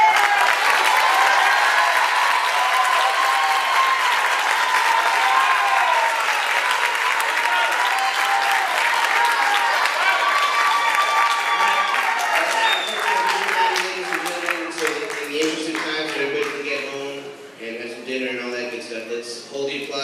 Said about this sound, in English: Let's hold the applause till the end.